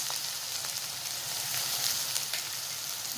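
Carrots are frying in a pan for a vegetable frankie, giving off a steady, close sizzling hiss with faint crackles and stirring, and no talking.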